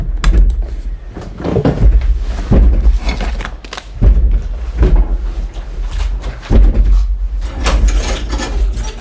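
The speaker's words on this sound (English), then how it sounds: "why are you banging on the door?" A child bangs repeatedly on a door nearby, giving loud, irregular thuds and rattles that come every second or two.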